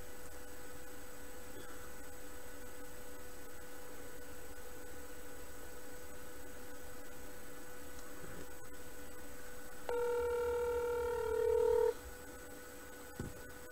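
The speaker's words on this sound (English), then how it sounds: "So I'm going to call them right now." A phone line to an animal hospital hums with steady tones under faint background noise, then a louder tone rises for about two seconds near the end, heard close with no voices.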